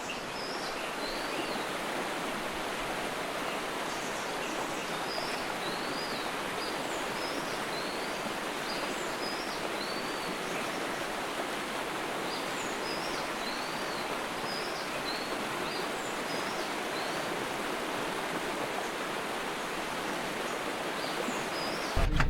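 Patalpani waterfall pours in a steady, dense rush of falling water heard from a distance, with birds chirping faintly above the constant roar.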